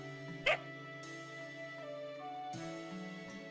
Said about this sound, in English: Oh, gross, there's a dog?